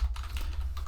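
Quick, close tapping on a computer keyboard as a name is typed into a search in the game Whiteout Survival, several light clicks in a short burst over a low hum.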